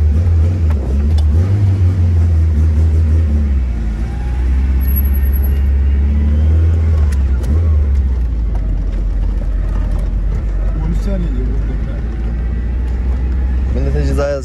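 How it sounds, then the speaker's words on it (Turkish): A Tofaş car with a loud aftermarket exhaust idles and revs, producing a heavy, booming low rumble that swells and settles close by while people talk inside the car. "Çok kötü lan bu egzoz ha."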